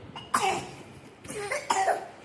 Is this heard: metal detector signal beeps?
no